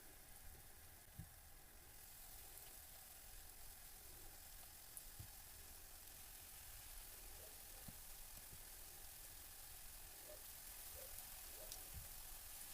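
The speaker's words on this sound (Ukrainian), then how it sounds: "І смажимо на середньому вогні обсмажилися вже оладки і перевертаю." Pumpkin fritters frying in a pan over medium heat give a soft, continuous sizzle with scattered small pops and ticks, fairly quiet and steady throughout, with no voices.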